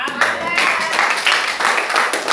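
A church congregation applauds, with dense, continuous clapping from many hands that is loud and close and steady throughout.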